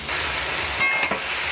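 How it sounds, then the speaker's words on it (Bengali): Boiled pasta drops into a frying pan of spices cooked with soy and tomato sauce, giving a close, steady sizzle with a couple of quick scraping clicks from stirring. "এবার পাস্তাগুলো দিয়ে দেবো।"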